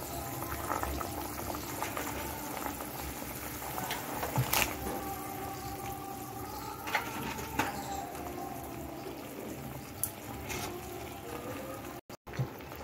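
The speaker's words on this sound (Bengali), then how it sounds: "জলটা ফুটে উঠেছে, এখন আমি পাপড় দিয়ে দিচ্ছি।" Water boiling in a cooking pot as papad goes in for a Bengali papad curry: a soft, steady bubbling hiss with occasional splashy pops and light clinks, quiet and close.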